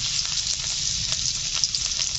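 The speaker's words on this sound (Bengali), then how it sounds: "তেল গরম হয়ে গেছে, দিয়ে দিচ্ছি রসুন বাটা।" Crushed garlic sizzles in hot mustard oil in a kadai, a dense, even frying hiss that holds steady and close with no pauses and no talking.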